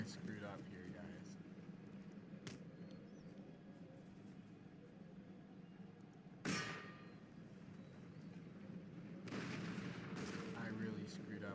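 Cannon artillery in an Empire: Total War battle fires one sharp boom midway and a burst of heavier blasts near the end, over a steady rumbling din of combat.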